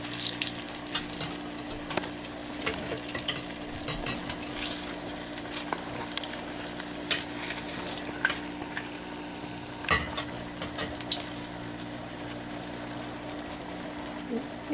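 Murungai keerai urad dal vadai bubbling in hot oil, a steady close sizzle with frequent crackles and light clinks of a utensil while the fritters are turned.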